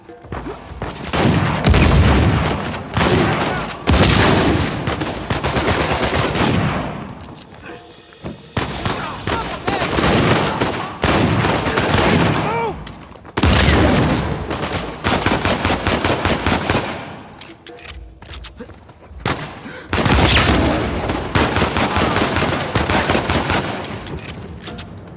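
Sustained automatic gunfire and bursts of shots rattle through a firefight in the video game Uncharted 4, loud and nearly continuous with brief lulls, and voices speak over the action.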